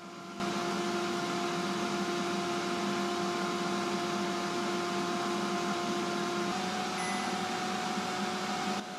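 A Silvercrest SHFD 2150 A3 2150 W, 5.2 L air fryer running at 200 degrees makes a steady, even fan hum with a constant tonal whine. The sound is continuous, close and alone, with no talk.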